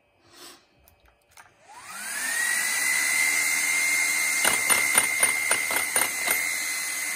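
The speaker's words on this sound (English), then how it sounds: "Servo works. And as you can see, it will far left turn, right there on the line, far right turn" An RC servo, a Promodeler DS1155BLHV, whirs up after a few soft clicks into a rising electric whine, then holds a steady tone broken by a quick series of short buzzing pulses as it sweeps back and forth.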